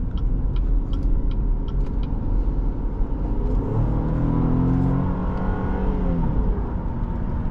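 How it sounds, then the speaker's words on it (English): A 2014 Cadillac SRX crossover's engine hums steadily while driving, a loud continuous rumble with a smooth rise in pitch as it accelerates, heard from inside the cabin without talk. "the engine sounds pretty good"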